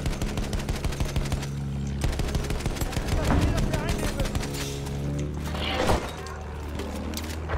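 Enemy soldiers and anti-aircraft guns fire in a video game battle, with rapid repeating gunshots and heavier thumping bursts close by, a steady low drone underneath and a loud blast near the end.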